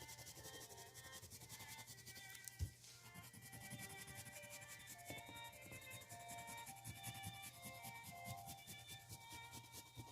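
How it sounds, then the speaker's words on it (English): White crayon rubbed on paper around a permanent marker line, a soft continuous scratchy rubbing with a quick rhythmic back-and-forth texture, close and quiet, with one brief tap. "I'm going to use a little bit of white to just color on the outside of this permanent marker line"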